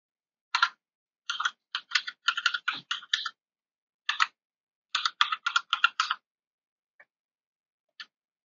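Typing a password on a computer keyboard: bursts of quick, crisp key clicks in uneven clusters with short pauses between, close and clear against silence, ending in a few isolated taps.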